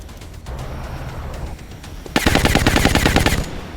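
Suppression gunfire in XCOM, a long burst of rapid automatic shots that breaks in loudly after a quieter stretch of low rumble and keeps hammering to the end.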